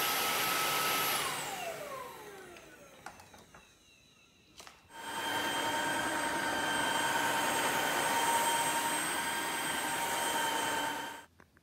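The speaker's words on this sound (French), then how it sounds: "Cet Ultenic AC1 Elite aspirateur sans fil fournit 2 grands réservoirs d'eau séparés." An Ultenic AC1 Elite cordless wet-dry vacuum cleaner winds down with a falling whine, goes quiet after a few clicks, then starts again and runs at a steady loud whirring hum before cutting off.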